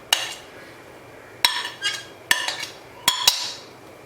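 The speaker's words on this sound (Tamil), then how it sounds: "போட்டு நல்லா மிக்ஸ் பண்ணி விட்டுறணும்." Fruit custard with apple, mango and banana being mixed in a bowl, giving a few separate sharp clinks and scrapes of a spoon against the dish with quiet gaps between them.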